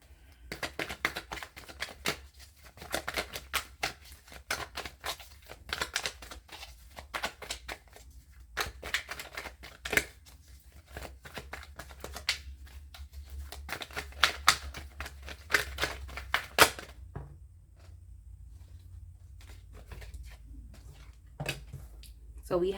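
Tarot cards shuffled and flipped by hand in a quiet room, a dense run of quick papery riffles and snaps that rises and falls over the span before easing off near the end.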